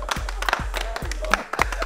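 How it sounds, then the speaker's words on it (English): A handful of people clap for a man's wife, a new physiotherapy graduate, in a few separate close claps rather than full applause, with a low hum and talking alongside. "please, a round of applause for my wife."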